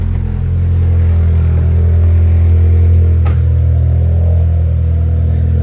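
Turbocharged Honda Civic engine running loud and close with a steady deep rumble, rising briefly in a short rev partway through before settling back.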